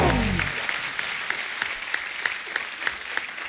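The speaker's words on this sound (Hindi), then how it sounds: "दादा के लिए जोरदार तालियां हो जाए एक बार" Audience applause on the Kapil Sharma comedy show, a live studio crowd clapping steadily after a brief low thump at the start, with individual claps popping out sharply near the end.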